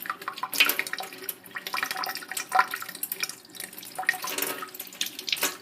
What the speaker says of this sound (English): Then I switch on my filter.